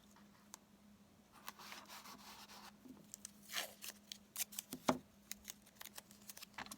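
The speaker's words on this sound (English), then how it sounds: "And I'm going to cut a little triangle there" Close, quiet snips and crinkling as a small triangle of masking material is cut, likely with scissors, while painting a barn quilt; soft scattered clicks build into a cluster of sharper cuts, with a low steady hum underneath.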